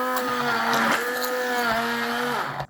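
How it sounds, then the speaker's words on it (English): A kitchen blender whirs steadily while mixing a vanilla milkshake, its motor pitch dipping slightly under load before spinning down at the end, loud and close with no talking. "then we're gonna use our blender."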